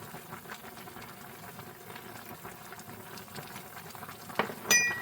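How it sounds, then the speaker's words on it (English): A pot of cabbage stew bubbles steadily at a low, even simmer, with a couple of brief louder clinks near the end. "I'm going to add them right to our cabbage stew. I got it boiling here a lot."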